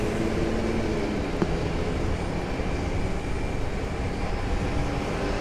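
An airplane rolls along the runway at RDU airport just after a hard landing, a steady broad engine and roll rumble heard from a distance without a break, with no talk.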